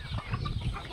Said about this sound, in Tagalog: tingnan nyo guys, oh, itong manok namin dito